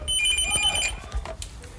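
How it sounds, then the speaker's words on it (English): A telephone in the Big Brother UK house rings with a bright, trilling electronic bell. The ring is loud, lasts under a second and is followed by faint room noise. "Phone!"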